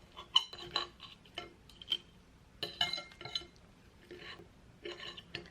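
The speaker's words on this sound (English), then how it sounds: "So I use fork and knife because it's easier to cut it." Fork and knife clink and scrape against a plate while cutting a Costco Korean vegetable pancake, several light, sharp taps spaced irregularly and close up, with no talk.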